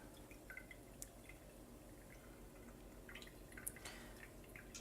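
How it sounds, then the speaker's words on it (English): Water drips and trickles faintly and irregularly from a grain bag into a pot of liquid below while sparging, scattered small plinks over a quiet background. "just sparging the grains through the bag and into the pot that we just steeped them in"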